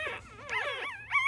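A five-day-old puppy whimpers up close, with thin, wavering high-pitched cries rising and falling in quick succession over a low background hum.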